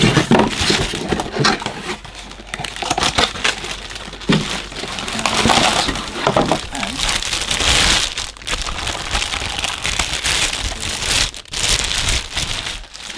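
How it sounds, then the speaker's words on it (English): Packaging is pulled off a cordless vacuum cleaner box up close, irregular bursts of crinkling plastic and crunching cardboard with brief pauses between handfuls. "That's it, get all the packaging off."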